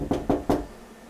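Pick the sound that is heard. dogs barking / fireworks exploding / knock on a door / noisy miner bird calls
knock on a door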